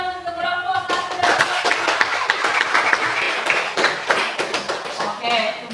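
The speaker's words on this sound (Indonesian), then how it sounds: "Oke, beri aplaus untuk kelompok 1." A classroom group gets a round of applause: dense, steady hand clapping from many students fills the whole stretch, with some voices mixed in underneath.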